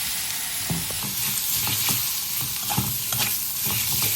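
Pork ribs stir-fry in a wok with white soy sauce, oyster sauce and southern Thai curry paste, producing a loud continuous sizzle and brisk, irregular clanks and scrapes of a spatula, with no speech.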